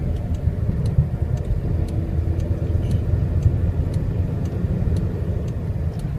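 A car drives along in fourth gear, its engine and road noise forming a steady, loud low rumble with no breaks or shifts.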